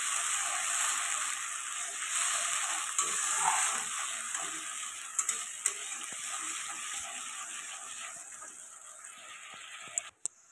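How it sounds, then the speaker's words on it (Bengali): Spice paste for vegetarian chana dal frying in a pan while being stirred, a steady bright hiss running throughout with soft scraping and a couple of sharp clinks near the end. "পেস্টটা দিয়ে এবার ভালো করে নাড়াচাড়া করে নেবো।"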